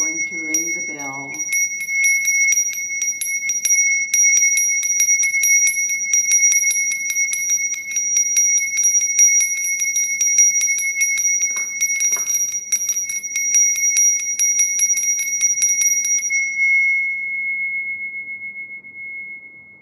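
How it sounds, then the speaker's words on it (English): A bell is struck once with a striker and rings with a clear, bright, sustained tone that slowly decays over about fifteen seconds, heard alone after a brief spoken moment at the start. "And then finally, I'm going to ring the bell"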